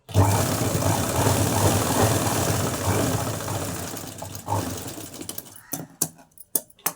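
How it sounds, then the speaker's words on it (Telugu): Sewing machine stitching a garment at the armhole in one continuous whirring run, loud and close, before it stops and gives way to a few scattered handling knocks. "చూసారా ఎంత ఈజీగా స్టిచ్ చేసేసాను"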